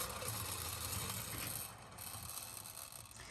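A cranked flywheel tin toy astronaut spins with a dense, fast ratcheting whir of gears, loud and close at first, then easing slightly as it winds down, with no talking.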